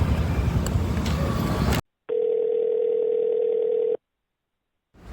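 After a burst of outdoor road noise, a phone call that goes unanswered gives one steady electronic ringing tone of about two seconds, followed by silence.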